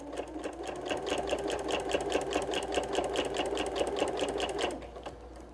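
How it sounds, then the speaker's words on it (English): A sewing machine runs steadily along a 1/4 inch quilt seam for a Santa cookie rug, its needle hammering in a fast even rhythm, close and continuous with no talk. "I'm gonna stitch along, making sure I'm still flat against my seam guide, so I'm getting that 1/4 inch"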